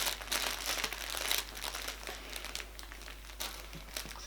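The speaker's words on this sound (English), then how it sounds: "I'm amused by the crinkly playmat." A crinkly baby playmat rustles and crackles softly in irregular bursts as a two-month-old baby moves on it, quiet and close with no talking.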